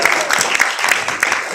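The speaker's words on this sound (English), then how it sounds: "Let's give Adam a round of applause." A comedy club audience at a stand-up show gives a short burst of applause, a dense patter of clapping at moderate distance lasting under two seconds.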